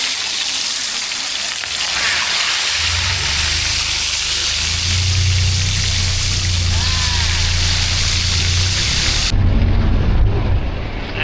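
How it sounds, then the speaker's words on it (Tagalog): Heavy rain of an approaching thunderstorm roars steadily and loudly outdoors, with a low rumbling swell building in the middle before the downpour continues. "Makapal-kapal na naman itong unos na ito mga bay."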